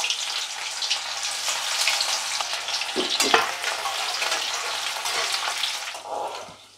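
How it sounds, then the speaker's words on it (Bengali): Onions frying in oil for biryani produce a continuous crackling sizzle with scattered pops and a few stirring knocks. It is moderately loud, close and heard without speech. "এবার পেঁয়াজগুলো একটু ভাজবো"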